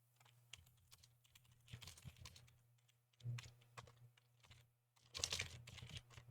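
Computer keyboard typing in bursts of quick, faint keystrokes separated by short pauses, with no talking.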